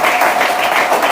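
A church congregation bursts into applause during a worship service, a brief, loud, dense wash of clapping from many hands.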